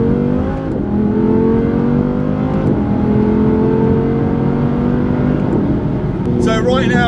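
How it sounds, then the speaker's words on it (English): Audi R8 RWS V10, rear-wheel-drive, revving hard under acceleration from inside the cabin, a loud continuous engine roar with gear-change dips and rising pitch, with voices talking over it. "Listen to that V10."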